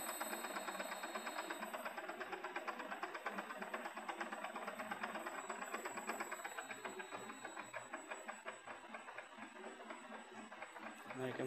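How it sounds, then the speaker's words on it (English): An electric motor driven by a variable frequency drive runs steadily in reverse, giving a continuous mid-pitched whine with a fine rapid pulsing and a faint high electronic tone, alone and fairly quiet throughout. "So motor is running in reverse direction now."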